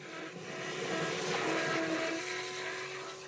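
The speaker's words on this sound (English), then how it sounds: "the resulting slurry is then vacuumed up by the very powerful vacuum on board the truck through the dig tube" A hydrovac truck's powerful onboard vacuum sucks soil slurry up through a dig tube, a steady, loud hissing roar with a faint whine running through it and no talking.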